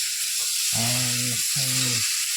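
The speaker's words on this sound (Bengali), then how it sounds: "ভালো করে মশলা কষিয়ে নেব" Spices sizzle steadily in a pan for a katla fish curry with potato and pointed gourd, a close constant frying hiss under two short bursts of a low voiced sound.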